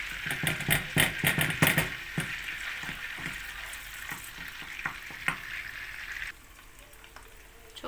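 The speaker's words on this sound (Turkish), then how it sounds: "Orada da tereyağını koydum eriyor." Butter melting in a pan while making Kayseri-style mantı sauce sizzles and crackles steadily, busier and louder at first, then settling into a quieter, even fry.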